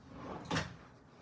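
A drawer built into a bed slides open or shut with one short, soft scrape-and-thump in the middle of an otherwise quiet room.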